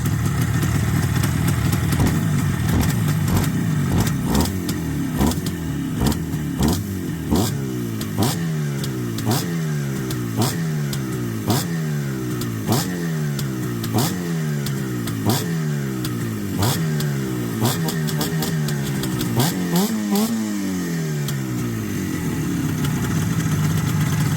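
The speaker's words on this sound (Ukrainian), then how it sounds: "Моторчик прогрітий. Демонстрація, як реагує на газ." IZh Jupiter 4 two-stroke motorcycle fitted with Suzuki TS 185 pistons, warmed up and revved repeatedly: sharp throttle blips rising and falling in a steady rhythm over a rattling idle, loud and close, outdoors in the rain.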